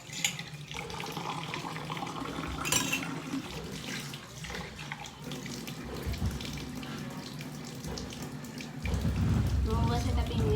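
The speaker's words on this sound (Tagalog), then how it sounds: "So subang guys, mugas kita sang pinggan tungod kay sobra kalakta." Tap water runs steadily into a kitchen sink while dishes are washed, a continuous close splashing with occasional clinks, growing louder near the end, with a person talking over it.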